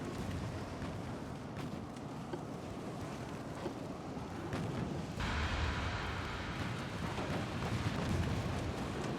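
Naval secondary guns firing in the Ultimate Admiral Dreadnoughts game, a dense rumbling wash of distant booms and blasts that swells louder partway through, with no clear single shots.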